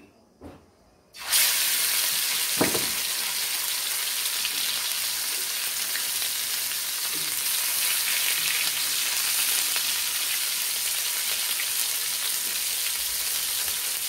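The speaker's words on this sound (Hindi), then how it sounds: "अब हम इसके अंदर कबाब लगाएंगे, चपली कबाब।" Chapli kebab frying in hot onion oil on a home tawa griddle: a loud, steady sizzle starts abruptly as the patties go in and continues evenly without talk.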